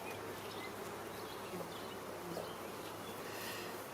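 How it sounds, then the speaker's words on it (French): Dense, continuous buzzing of honeybees at a very populous beehive opened for queen rearing, a steady close hum with no voices. "là c'est une ruche très populeuse qui va me servir de starter éleveuse"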